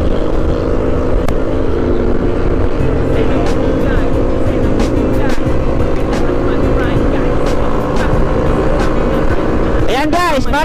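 A stock 2013 Kawasaki Fury 125 races a stock Yamaha Mio i 125 scooter on the road, a loud continuous engine drone with wind rush, under faint talk and a brief rising whine near the end.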